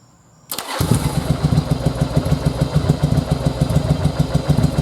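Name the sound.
Yamaha Virago motorcycle engine starting up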